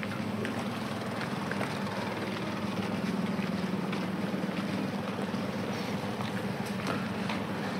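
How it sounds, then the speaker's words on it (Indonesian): Steady engine drone of the ship Lingga Terbilang at a harbour pier in a Bugis village in Indonesia, a continuous rumble with wind and water noise, no talking. "ini ada kapal Lingga Terbilang"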